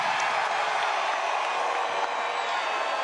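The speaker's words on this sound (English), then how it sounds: "I think we all deserve to give this gentleman behind me, DJT, one hell of a round of applause" A dense, steady roar of applause and cheering from a large crowd at a political rally for Donald Trump in Florence, South Carolina, sustained throughout with no distinct talk.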